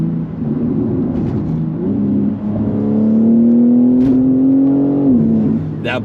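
BMW G80 M3 engine droning steadily from inside the cabin, pitch holding then climbing gradually before dropping as revs shift around a downshift, with a faint thump along the way.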